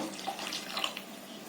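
Hot water streams into a pan for semiya upma, a steady close pouring and splashing hiss that carries on unbroken with no one talking.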